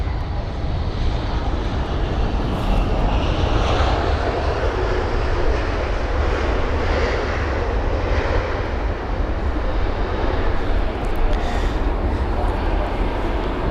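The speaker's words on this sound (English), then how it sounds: "next arrival is going to be a British Airways aircraft" British Airways airliner landing at London Heathrow, a steady broad jet-engine roar that stays loud and constant throughout, with a person talking over it.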